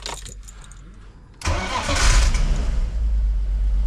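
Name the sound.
BMW E46 car engine starting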